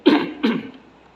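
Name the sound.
throat clearing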